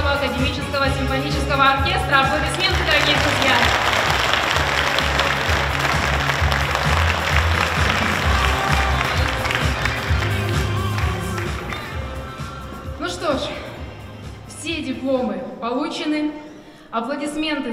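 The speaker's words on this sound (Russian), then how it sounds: "аплодисменты заслуженные получены" An audience applauds competition winners at a regional orchestra soloist contest. The dense, sustained clapping runs for roughly twelve seconds with a voice speaking over it, then fades into plain talk.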